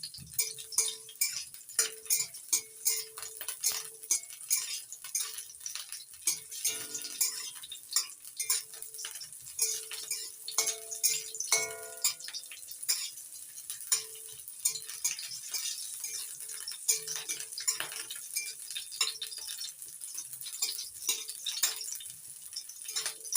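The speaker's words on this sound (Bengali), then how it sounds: "এবার কাঁচা লঙ্কা আর রসুনটা ভালো করে ভেজে নিচ্ছি" Green chillies and garlic frying in a pan, a soft crackle under repeated sharp metallic ticks and clinks of a utensil against the pan, close and fairly quiet, with no voices.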